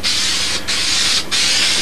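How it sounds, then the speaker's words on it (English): Steady, loud hiss of spray adhesive from a can test-sprayed onto a foam wing core for a model B-25 build, continuous with two brief breaks in the spray. "I want to do a little spray test"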